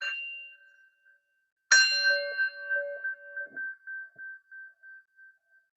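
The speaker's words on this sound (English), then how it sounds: "taking the sound of the bell," A meditation bell struck at the start of a gentle Kripalu yoga practice gives one clear ding that rings on and fades slowly in pulsing waves. The tail of an earlier tone dies away first, and the room is otherwise quiet.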